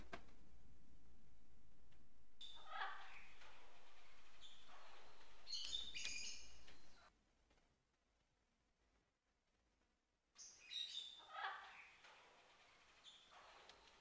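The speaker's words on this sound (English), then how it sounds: "Birds were just being silly." Cartoonish birds chirping in a Panasonic 3DO game, heard as bursts of bright tweets in short clusters separated by quiet stretches, with a low background hum.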